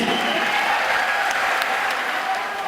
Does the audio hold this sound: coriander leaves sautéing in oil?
no